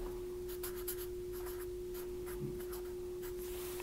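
Pen or pencil scratching on paper as a single word is written by hand, producing short, soft strokes in quick bursts over a faint steady tone.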